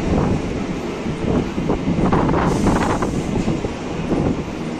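A local train pulls into Agarpara station on the Sealdah–Ranaghat line, its loud, steady rumble and wheel clatter filling the scene, with wind buffeting the microphone and brief higher squeals as it rolls along the platform.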